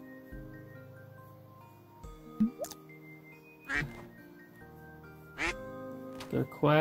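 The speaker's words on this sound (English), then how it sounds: "They're quacking at me." Cartoonish ducks quack in a video game while being fed bread, several short quacks scattered over a sustained musical background, with a person talking over part of it.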